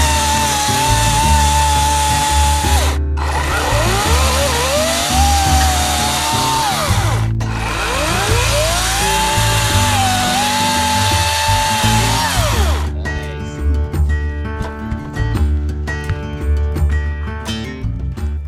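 A chainsaw cuts a log into firewood lengths at an off-grid bushcraft cabin, loud close high-pitched revving that dips under load in two long cuts with short pauses between, then falls to a lower idle chatter.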